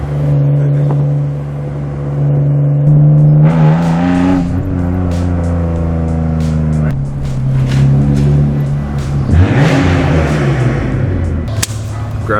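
A straight-piped BMW M car revs hard through manual gear changes, its loud raspy engine note climbing, dropping at each shift and climbing again, with exhaust pops and crackles close by.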